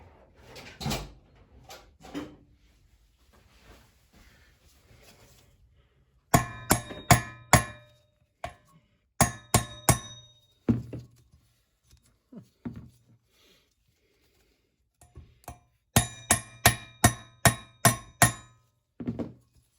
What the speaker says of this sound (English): when I whack it with the hammer, I don't damage the threads at all